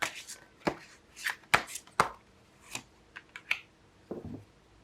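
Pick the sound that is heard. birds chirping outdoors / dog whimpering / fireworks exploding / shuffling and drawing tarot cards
shuffling and drawing tarot cards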